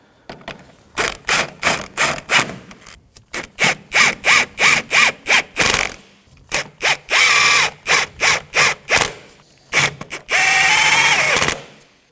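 A ratchet snugging the engine mount nuts on a 2011-2016 Kia Optima 2.4L four-cylinder, loud and close, with bursts of rapid clicking cranks, brief pauses between runs and one longer sustained burst near the end.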